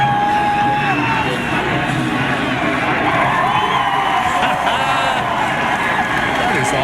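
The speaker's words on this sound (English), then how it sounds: "The crowd reaction when they hoisted Junior out of that car was huge." A race crowd cheering as Dale Earnhardt Jr. is lifted from his car at the 2004 Siemens 300, a dense roar of voices and whoops that keeps on steadily without a break.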